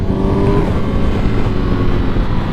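A Honda CBR1000RR-R Fireblade SP pulls hard at wide open throttle in third gear from about 4,000 RPM, its engine a loud, steady, continuous drone with rising harmonic tones, no voices present.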